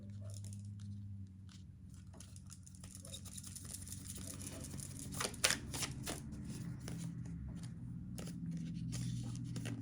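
Tarot cards riffle and slap together in repeated quick shuffles, crisp papery bursts close by, with a voice talking quietly underneath.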